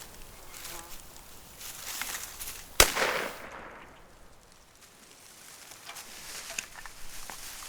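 A single sharp shotgun blast rings out mid-clip during a hunt, loud and close against a quiet outdoor background with faint insect-like buzzing before and after.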